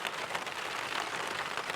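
Heavy rain pattering on a camping tarp beside a lake during strong winds, a dense continuous hiss of drops at close range, faint and even throughout.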